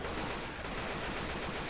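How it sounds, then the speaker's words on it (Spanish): Rapid gunfire in the zombie shooter Left 4 Dead, played on the Haunted Forest map, forms a dense, continuous burst of shots with steady loudness throughout and no talk. "Dios, es que disparo y no sé ni a quién."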